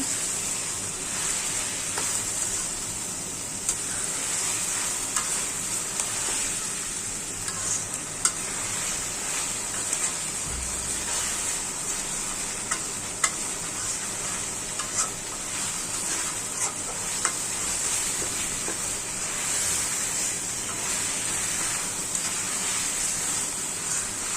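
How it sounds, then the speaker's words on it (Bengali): Chicken and onions fry in oil in a pan, giving a steady, close sizzle with occasional stirring scrapes and pops throughout. "যে দেখুন ভাজা ভাজা করতেছি মুরগিগুলো"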